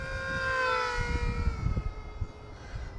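Ultrix model airplane making a high speed pass overhead in the evening, its engine a bright whine that swells loud and then slides down in pitch as it moves away.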